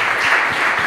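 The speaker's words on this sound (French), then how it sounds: "On peut l'applaudir également." Brief burst of audience applause at a televised games event in Lubumbashi, a dense and loud patter of clapping for under a second.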